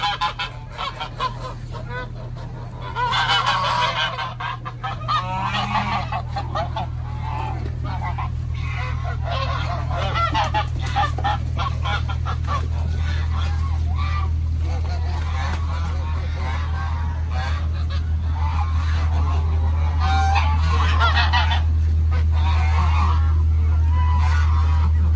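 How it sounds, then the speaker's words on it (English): Chinese geese on a farm in Nigeria honk loudly and repeatedly in a noisy flock, their calls overlapping nearby for the whole stretch, with a voice briefly heard among them. "This kind of geese"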